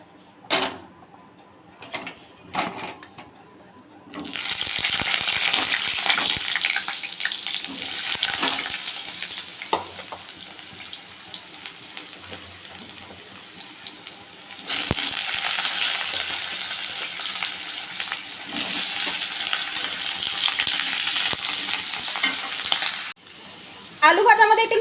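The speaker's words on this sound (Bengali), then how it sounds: "কড়াইতে তেল গরম হয়ে গেছে, আমি মাংসের জন্য আগে আলুটা ভেজে নেব।" Potato pieces drop into hot oil in a wok, setting off a loud, continuous sizzle that runs for long stretches, broken by a brief lull, a renewed burst and some clattering at the start and end.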